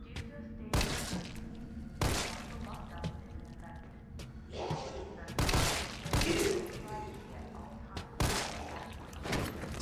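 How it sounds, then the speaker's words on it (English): Gunshots ring out in a hallway in the video game Resident Evil 3 Remake. About five loud, sharp shots come at irregular intervals, each trailing a reverberant echo, with tense game ambience between them. "I can hear the echo of the gunshot in the hallway to the right in the headset."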